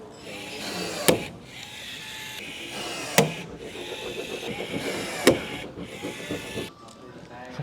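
Rivets being set into a Sling TSi aircraft fuselage, three sharp cracking rivet pops spaced about two seconds apart over a steady tool hum, close and distinct.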